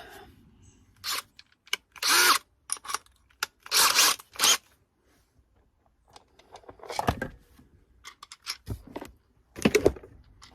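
A power drill runs in short, loud bursts with pauses and clicks between them, close by, stopping and starting repeatedly, while fitting a CCTV camera to a Ford Transit Custom camper van.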